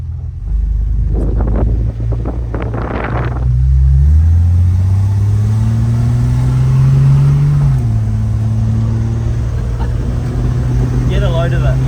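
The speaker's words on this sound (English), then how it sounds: "Back in the Valiant, back on the road." A Valiant car drives on the road with a low engine drone that climbs in pitch as it accelerates, shifts down, and rises again under heavy wind buffeting, while someone talks briefly near the start.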